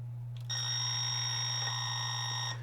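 An ESC on a Traxxas Sledgehammer RC car pulses its motor at very low RPM, producing a steady, thin electronic whine held for about two seconds over a low constant hum.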